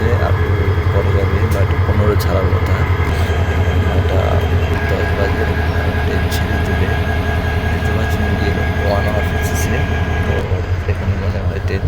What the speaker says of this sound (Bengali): দেখতে পাচ্ছেন ট্রেন ছেড়ে দিয়েছে আমরা অপেক্ষায় ছিলাম অবশেষে ট্রেন ছেড়েছে